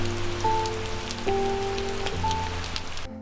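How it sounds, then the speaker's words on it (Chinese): Heavy rain pours steadily and loudly, a dense continuous wash of drops close by with no voices over it. "大家可以看这个雨有多大。"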